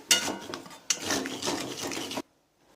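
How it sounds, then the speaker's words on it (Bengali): Sugar and semolina being stirred in a pan with a spoon for suji halwa barfi, a close gritty scraping and rasping in a couple of strokes that then stops suddenly. "দেখুন আমি অনবরত নাড়ছি যেন চিনিটা সম্পূর্ণ গলে যায়"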